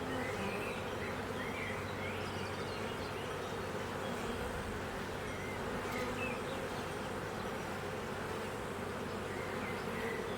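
A crowded honey bee colony in an opened hive hums with a dense, continuous buzz from many bees at close range, steady and even throughout with no voices.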